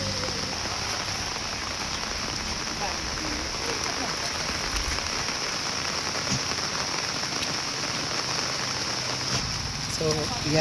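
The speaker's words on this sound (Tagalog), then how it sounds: "kay ulan man nga kusog karon" Heavy rain pours steadily and densely onto a surface, with a constant close hiss of drops and a faint murmur of voices somewhere beneath it.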